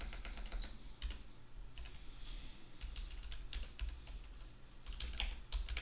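Steady typing on a computer keyboard, close and fairly quiet, with irregular clusters of key clicks throughout and no talk.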